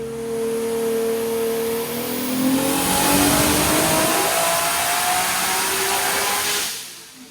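A 1,000-horsepower Hellcat with a 2JZ engine swap revving hard through a full-power pull, rising engine pitch climbing steadily for several seconds, then cutting off sharply, loud and close.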